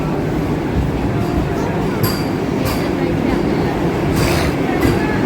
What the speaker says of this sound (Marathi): तर ही आहे वंदे भारत ट्रेन